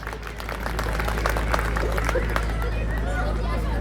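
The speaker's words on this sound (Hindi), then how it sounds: "जरा इनके लिए ताली बजाइए।" A crowd at a public speech claps together in a steady, moderately loud burst, with low hum and crowd chatter mixed underneath.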